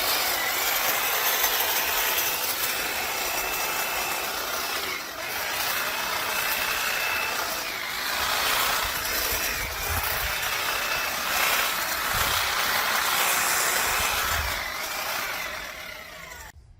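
Electric hedge trimmer cutting a large Tanuki juniper (Procumbens nana), a loud, continuous buzzing whir that rises and dips as branches are cut, close up and without talk.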